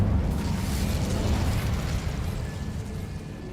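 An Incendio fire spell cast in Hogwarts Legacy: a loud, roaring burst of flame up front that fades off over a few seconds into a low rumble, with no talk.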